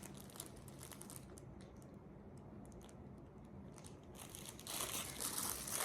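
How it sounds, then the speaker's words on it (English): Packaging crinkling during a cross-stitch floss haul, producing a faint, steady rustling and crackling that swells louder near the end, with no talk over it. "Sorry for the crinkling."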